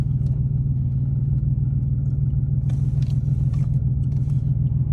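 A 1989 Chevy Celebrity idles steadily with a low, even engine rumble, and a few faint clicks and clatters sit on top of it.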